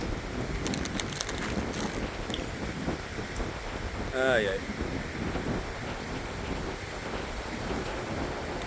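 Wind gusts across a microphone outdoors in Thailand, a steady broadband rumble running the whole time beneath a woman's speech and a brief exclamation.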